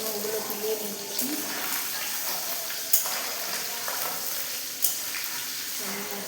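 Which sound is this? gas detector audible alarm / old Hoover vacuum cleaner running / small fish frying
small fish frying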